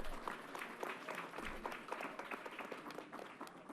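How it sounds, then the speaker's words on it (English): Applause from an audience at an announcement event at Yankee Stadium, a dense steady wash of clapping at moderate distance with crowd murmur underneath. "Let's give her another round of applause."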